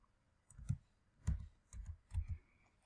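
A short run of computer keyboard keystrokes typing a brief word into a search box, a handful of soft, close clicks in quick uneven bursts, quiet and without speech.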